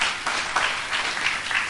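A church congregation claps during a worship service, a brief, moderately loud burst of applause that swells and fades in uneven waves with no speech over it.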